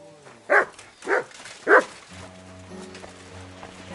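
Three separate dog barks, close and moderately loud, in the Kingdom Come Deliverance 2 video game, spaced about half a second apart. A low steady hum of game ambience takes over once the barking stops.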